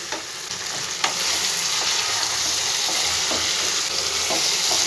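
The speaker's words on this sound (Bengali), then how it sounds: "এই পর্যায়ে আমি ভেজে রাখা আলু ও বড়াগুলো সব দিয়ে দিলাম, দিয়ে ভালো করে একটু কষিয়ে নেব" Fried potatoes and fritters get stirred into sizzling spice paste in a pan for a Bengali papor dalna, a steady loud frying hiss broken by repeated scraping stir strokes, with no talk.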